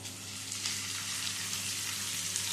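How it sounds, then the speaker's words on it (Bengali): Onions sizzle steadily in hot oil over a garlic and green chili tempering. The frying hiss is even, continuous and close, with no voices. "পেঁয়াজটা দিয়ে দিলাম পেঁয়াজটা দিয়ে পেঁয়াজটা ভেজে নেব"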